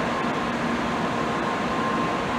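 A continuous low rumble and broadband roar of a Tokaido Shinkansen Kodama bullet train arriving at Shin-Fuji Station, steady and loud, with no talking.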